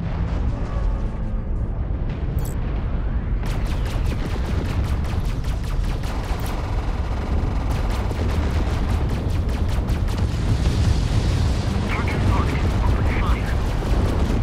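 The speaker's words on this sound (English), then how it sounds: "That's a lot of enemy fire coming this way." Enemy weapons fire in the space combat game Fractured Space: dense bursts of rapid shots and booming impacts pile up continuously, with louder volleys midway and a voice talking over the action.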